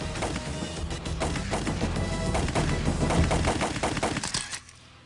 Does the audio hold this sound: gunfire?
yes